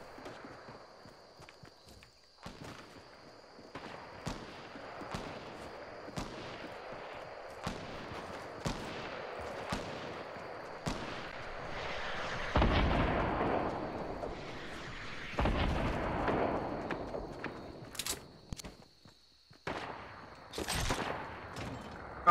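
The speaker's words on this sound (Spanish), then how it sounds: "Oigo disparos." Gunfire in the video game Fortnite Battle Royale, a string of sharp distant reports spaced every second or so, with a louder rumbling burst partway through, all heard without talk.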